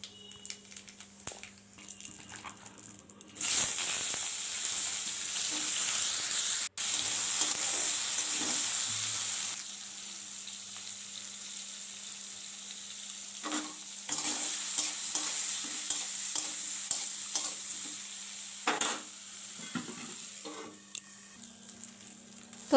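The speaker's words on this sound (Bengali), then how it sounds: "শুকনো লঙ্কা আর কালো জিরে ফোড়ন দিয়ে বেগুনটা দিয়ে দেবো" Brinjal frying in a wok after a dried chilli and nigella seed tempering, a steady hissing sizzle that swells when the pieces go in, with stirring scrapes and clatters over a low background hum.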